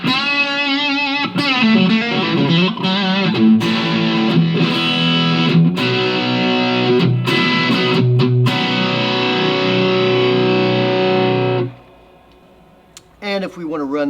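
Electric guitar played through a distortion pedal on the 78 setting with the level cranked way up, giving loud crunchy chords and sustained notes that ring out, then stop abruptly near the end.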